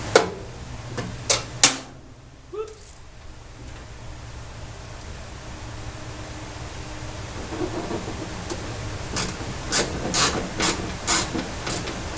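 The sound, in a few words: ratchet wrench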